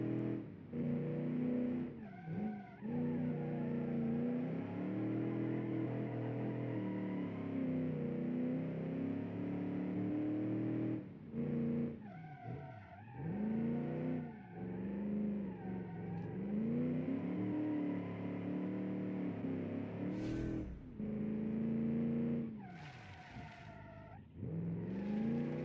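A loud car engine in a racing video game revs and drones continuously, pitch rising and falling with gear changes, with brief tire squeals.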